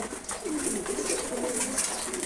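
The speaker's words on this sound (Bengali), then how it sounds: "মাদি কবুতর এগুলো।" Female red checker racer pigeons coo in low rolling murmurs over a steady background hiss, close and continuous for a couple of seconds with no talking.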